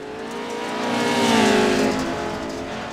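NASCAR Xfinity race cars in iRacing at Rockingham roar close by, the engine note swelling to a peak and fading as they pass.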